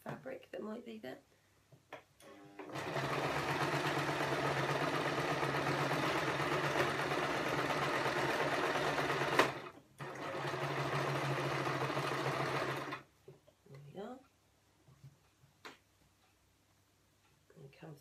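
A sewing machine stitching fabric for a shopping bag runs in a loud continuous whirring burst of about ten seconds, pausing briefly once, with quiet talk before and after.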